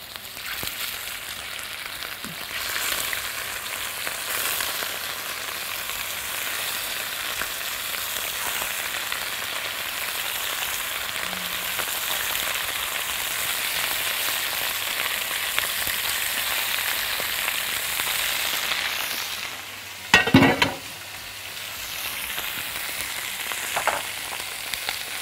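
Meat sautéing in a pan gives a steady, close sizzle and crackle that runs throughout, with occasional stirring scrapes and a brief louder clatter near the twentieth second.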